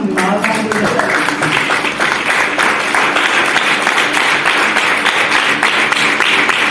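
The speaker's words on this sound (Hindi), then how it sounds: "इस बात पे तालियां होनी चाहिए।" A church congregation breaks into loud, close clapping that continues steadily throughout, with some voices mixed in among the hands.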